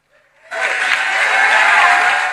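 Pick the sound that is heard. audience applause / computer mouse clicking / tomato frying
audience applause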